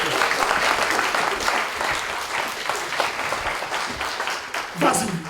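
A church congregation claps in dense, sustained applause at close range, with some voices mixed into the crowd.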